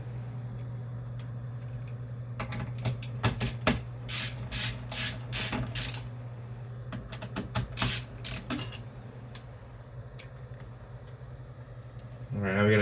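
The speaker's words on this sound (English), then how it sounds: "we're going to start taking these screws out and see where we land" Screws come out of an MSI RTX 5090 Gaming Trio OC graphics card, with close clusters of quick ratcheting, whirring bursts from a screwdriver over a steady low hum, then quieter scrapes.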